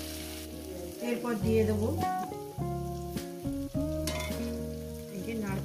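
Pieces of katla fish frying in a pan of hot oil give a steady sizzle and crackle, joined by stirring scrapes, while soft background music plays and someone speaks briefly.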